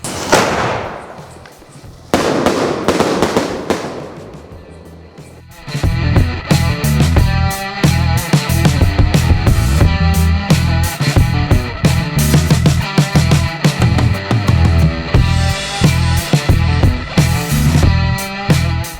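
Paper cracker fireworks go off at night among Sivakasi fancy crackers: sparse loud pops at first, then a dense, continuous crackling barrage of rapid bangs that keeps going close by, with no talk over it.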